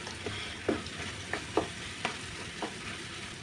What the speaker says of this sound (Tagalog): So, halo lang ng ulit.